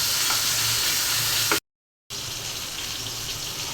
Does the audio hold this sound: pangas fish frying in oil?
yes